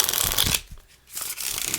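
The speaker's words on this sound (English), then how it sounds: "But I can do a few shuffles here and just show you." A collector's deck of US Presidents playing cards being shuffled, with two bursts of close riffling and flapping separated by a short quiet pause.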